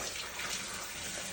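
Tap water runs steadily into a sink while dishes are washed on a cold night in Shergaon, Arunachal Pradesh, a continuous close hiss and splash with no voices.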